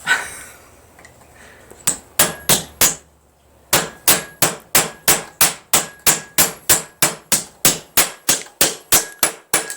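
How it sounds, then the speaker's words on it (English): A hammer strikes a metal bracelet blank on a block in a fast, steady series of sharp ringing blows, loud and close, after a few opening hits and a brief pause. "You want to do lots of hammering, lots of hits"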